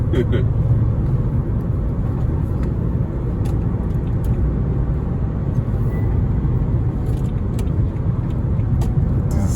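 Peugeot 406 V6 with a manual gearbox drives along, its engine a steady low drone with road rumble heard from inside the car, continuous and fairly loud.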